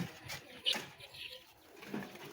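Newly bought doves (ghughu) kept in a cage at a bird market. Soft, faint cooing comes in a few short bursts against a quiet background.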